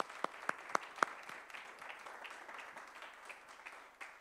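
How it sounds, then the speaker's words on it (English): Audience applause at a business council panel, opening with a few distinct sharp claps, then thinning into a softer, scattered patter of clapping that stays fairly quiet. "Phil, a great round of applause to you for your effort"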